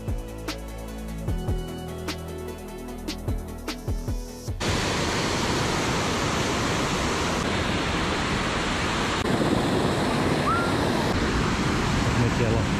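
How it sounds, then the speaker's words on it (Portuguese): Running water at a water wheel on a forest hiking trail roars as a steady, broad rush, loud and close, after a stretch of muffled footsteps and handling noise with some background voices. "A gente chegou na roda d'água da casa do Ipiranga."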